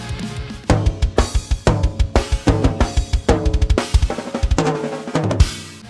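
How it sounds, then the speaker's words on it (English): Acoustic drum kit played as a live performance, with kick, snare and cymbals hitting in a steady groove throughout, loud and close. "Do you have a drum performance that needs some help like this?"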